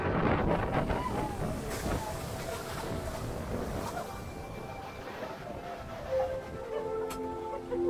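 A DUKW amphibious vehicle's engine rumbles steadily as it drives on a lake, with wind buffeting the microphone and faint voices in the background.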